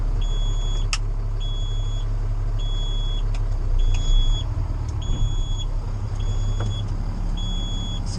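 A garbage truck engine idles steadily while its air pressure builds, a loud continuous low rumble with a high electronic beep repeating at regular intervals throughout.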